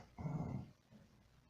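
A dog gives a short low growl, close and fairly quiet, lasting about half a second before fading into soft background noise.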